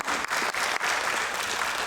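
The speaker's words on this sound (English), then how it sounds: "Let's give everybody a round of applause, if you'd like to, for that great question" An audience at a school board candidate forum gives a brief round of applause, a dense burst of clapping with a few slight dips, fairly close and steady for its short length.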